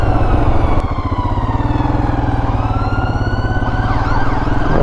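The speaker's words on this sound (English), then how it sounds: "Where's the ambulance going?" An ambulance siren wails through London traffic on a hot day, heard from a Royal Enfield Himalayan motorcycle, its rising and falling tone sitting over loud, constant engine and wind rumble.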